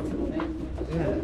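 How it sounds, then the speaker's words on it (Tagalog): Racing pigeons in a loft give a low throaty cooing close by, partly masked by people talking over it. "Ganda ng mga ibon."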